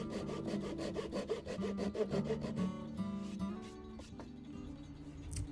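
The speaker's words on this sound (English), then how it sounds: "After it had dried, I came back and flush trimmed the plugs and pins." A hand saw flush-trims wooden plugs and dovetail pins on a tool tote with a quick run of rhythmic back-and-forth rasping strokes, close and clear, then slows into a few lighter scrapes.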